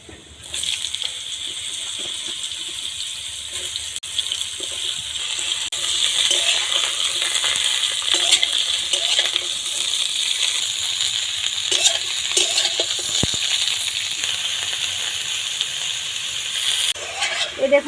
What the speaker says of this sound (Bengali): সামলাগুলো ভেজে নেব